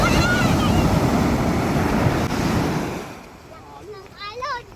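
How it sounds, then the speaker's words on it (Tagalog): Ocean waves pounding a beach on the coast of Camarines Norte near Daet, a loud roaring surge with wind buffeting the microphone that fades after three seconds as a person begins talking. "Grabe yung palo ng alon oh."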